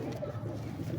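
A female pigeon coos close by in a soft, low, continuous burble that fills the whole brief moment.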